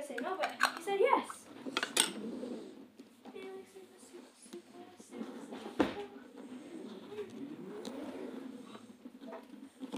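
Pots and pans clatter in a home. Sharp metallic clanks burst out at the start, then lighter clinks follow while people talk.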